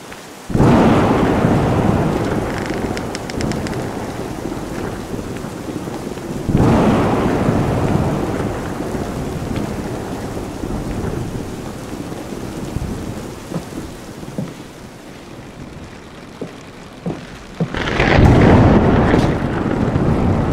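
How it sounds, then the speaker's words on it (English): Heavy rain pours steadily in the video game Lunacy Saint Rhodes, and two long rolling thunder rumbles swell loud near the start and around the middle, with a third surge of thunder and rain near the end. "I need to look for shelter from the rain before I catch cold."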